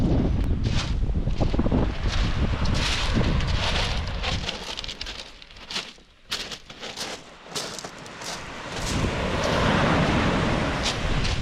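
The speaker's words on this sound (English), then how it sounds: "it's windy too now" Strong wind buffets the microphone in gusts while surfcasting on a beach on New Zealand's South Island, with a roaring rush that dips briefly midway before building loud again.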